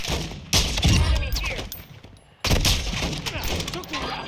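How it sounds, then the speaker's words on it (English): Gunfire bursts crack out in Call of Duty DMZ, two sharp loud volleys about two seconds apart, each trailing into rattling echoes and debris. "Who's shooting at me?"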